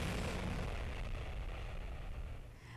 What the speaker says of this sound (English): The Boeing 787 Dreamliner departed Daytona Beach International Airport with a tip of its wing